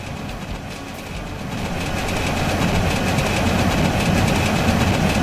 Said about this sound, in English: And the engine grumbling.